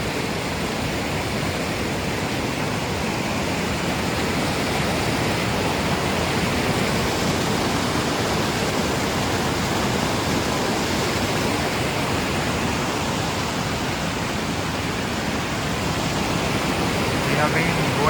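A waterfall on a jungle mountain trek near a river roars in a loud, continuous, steady rush close by, filling the whole span without a break.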